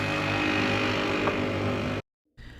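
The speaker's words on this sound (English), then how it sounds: "Motorbikes and scooters seem to be the preferred mode of transportation." A motorbike or scooter engine drones steadily and loudly on a street in St. George, Bermuda. The noise holds constant before cutting out abruptly near the end.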